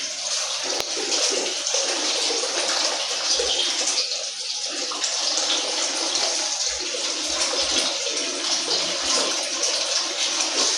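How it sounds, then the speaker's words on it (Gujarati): Overflowing sewage water pours out steadily in the Tandalja police line area of Vadodara, a continuous close rushing and gushing flow with no pauses. "જે રીતના ગટરનું પાણી ઉભરાય છે"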